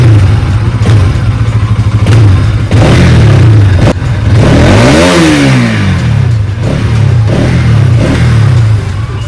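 A Bajaj NS200 motorcycle fitted with new NGK spark plugs revs loudly and close up, with repeated sharp throttle blips and one long rise and fall of engine pitch over a constant idle rumble.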